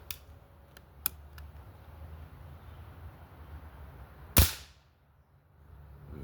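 A Crossman air rifle fires a single sharp, loud crack at a target outdoors, standing out briefly against a low steady background rumble, with a few faint clicks beforehand.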